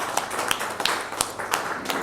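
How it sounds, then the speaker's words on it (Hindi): Sparse, separate claps from an audience at a film award ceremony in Dubai, a few hands clapping at an uneven pace for about two seconds. "तालियां हो जाए।"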